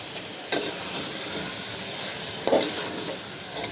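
Meat goes into hot oil with ground black pepper and green chillies for a biryani, frying in a continuous close sizzle with two brief clinks from a utensil.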